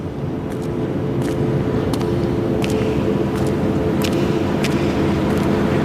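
A large fan draws intake air into an enclosed space, a loud steady rushing roar with a low constant drone and occasional brief bursts of higher hiss, close and unbroken.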